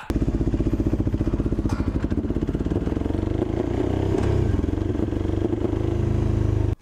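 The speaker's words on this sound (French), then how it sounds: "Mais le pot il commence encore à péter" A motorcycle's exhaust pops and crackles as the clutch is let out on a track day, over a loud, close, rapidly pulsing engine note that runs steadily throughout.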